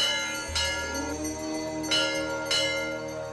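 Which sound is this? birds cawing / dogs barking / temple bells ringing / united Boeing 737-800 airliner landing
temple bells ringing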